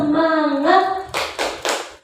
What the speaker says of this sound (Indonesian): kita tepuk semangat dulu biar semangat semuanya